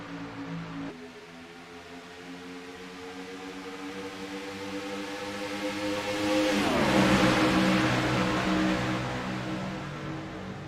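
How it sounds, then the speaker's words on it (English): Race cars roar around the track at the start of the I've Got Ballz 250 at Daytona, a steady engine drone that swells to a loud pass with a falling pitch sweep around seven seconds, then fades slightly. "They barrel down into turn 1, through turn 1, and into turn 2 now."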